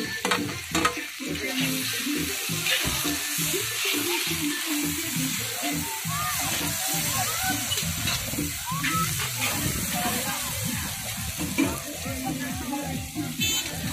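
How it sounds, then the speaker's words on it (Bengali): About half a kilo of onions frying in spiced oil in a large pot while cooking chicken at an outdoor picnic spot, a continuous loud sizzle with repeated stirring scrapes throughout. "এখন আমি এর মধ্যে পেঁয়াজ দিয়ে দিচ্ছি।"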